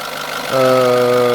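A car engine running steadily at idle, running hot despite a recently replaced master cylinder and a belt in good order; a loud, even hum with a low steady drone that swells after a brief quieter start.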